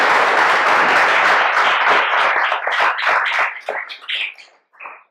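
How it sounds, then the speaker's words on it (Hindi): Loud applause from a small group in an acting improvisation class, starting as a dense burst of many hands, then thinning into scattered separate claps that trail off near the end, with no talk. "जोरदार तालियां"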